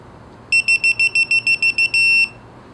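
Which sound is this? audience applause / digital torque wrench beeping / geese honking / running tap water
digital torque wrench beeping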